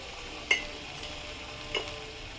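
Okra and potatoes cooking in a pan after a sprinkle of sugar, with a low steady sizzle and two brief scraping strokes of a spoon stirring the mixture.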